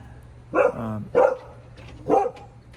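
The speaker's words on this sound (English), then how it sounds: "A puppy walked by on the street over there" A puppy barks out on the street, giving three short, moderately loud yaps spaced apart, with no voices over them.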